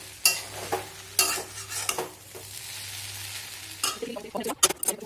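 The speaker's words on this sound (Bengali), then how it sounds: "আর এখানে দেখো আলু ভাজছি।" Potatoes frying in hot oil in a home kitchen, with a soft continuous sizzle and a few stirring and scraping sounds from a spatula against the pan.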